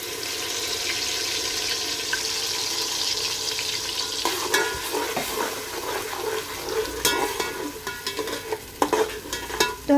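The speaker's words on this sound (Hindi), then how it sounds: "पीसी हुई प्याज हम तेल में डाल देंगे।" Ground onions, three of them, drop into hot oil and fry with a loud, steady sizzle, followed by stirring with scraping and clinking, no voices.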